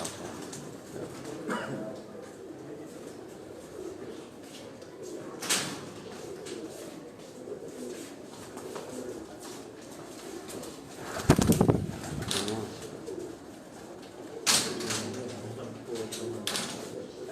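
Kot Commander pigeons on a Sialkot rooftop give soft, repeated coos amid outdoor ambience, with occasional louder bumps and flutters, while people talk in the background.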